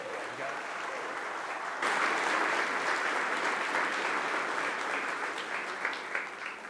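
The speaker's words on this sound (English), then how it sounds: "One more round of applause for our panelists." Audience applause for downtown Greensboro panelists, steady and sustained, swelling louder partway through and continuing without pause, with no voices over it.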